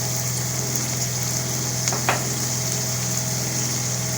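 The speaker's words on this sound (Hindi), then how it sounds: "और ये अच्छे से इसको हम फ्राई कर लेंगे।" A chicken omelette frying in a pan gives a steady, even sizzle throughout, with a couple of faint scraping touches partway through and no voices.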